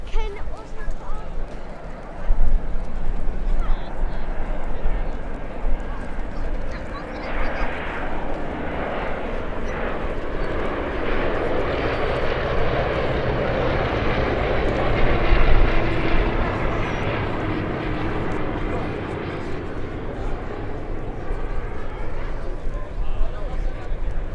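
WWII aircraft powered by Bristol Mercury radial engines fly in formation at Duxford, making a loud, steady, rumbling engine drone that swells slightly as they pass overhead.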